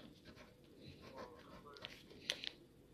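Pen scratching on paper, faint rapid strokes with a couple of sharper taps near the end, close and quiet with light background voices.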